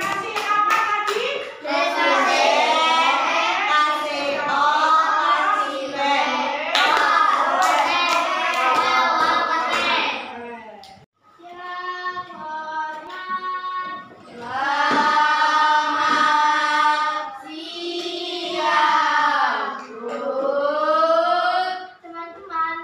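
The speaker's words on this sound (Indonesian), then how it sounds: "Kemudian tepuk tangan." Young children clap their hands together while loud, high voices chant and sing in unison, the clapping mixed under the group voices with a short pause midway before the chanting resumes.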